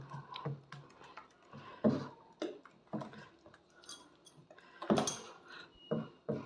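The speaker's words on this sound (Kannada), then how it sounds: "ನೀಟಾಗಿ ಕಲಿಸ್ಕೊಳ್ಳಿ ಕೈಯಲ್ಲಿ" A hand kneads and mixes thick idli batter in a bowl, making close, irregular wet slaps and squelches with a few sharper knocks against the container.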